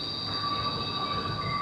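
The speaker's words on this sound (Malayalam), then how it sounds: "ഓക്കെ, ഡോർ അടച്ചു. ഇനി ട്രെയിൻ ഇങ്ങോട്ടങ്ങ് പോകും." Airport Skytrain people mover pulling away after its doors close, a steady rolling rumble with high sustained wheel squeal tones, close and continuous.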